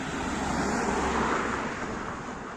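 A car passes along a nearby rural road, a steady broadband whoosh of tyres and engine that swells and then fades over a couple of seconds with no talk.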